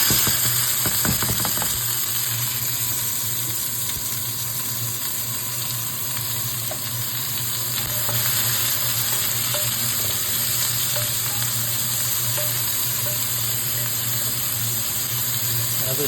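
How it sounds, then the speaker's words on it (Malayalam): Carrot and onion sautéing in a hot pan for uppumav, a constant bright sizzle and hiss running throughout, with a few stirring clatters near the start. "അതിട്ടൊന്ന് വഴറ്റുക."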